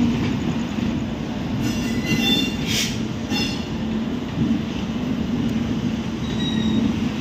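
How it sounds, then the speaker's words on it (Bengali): Inside the Himgiri Express pulling out of Howrah station, a steady rumble of wheels on rails continues throughout, with faint squeals and clatter and no talking. "ট্রেন পুরো সঠিক টাইমে ছাড়লো আমাদের।"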